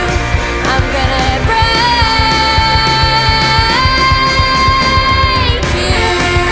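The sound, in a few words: rock song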